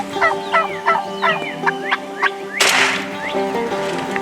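A wild turkey gobbler on opening day of spring turkey season in Texas sounds a loud, close string of rapid, rattling gobbles, several bursts in quick succession, followed by a sharp, noisy burst.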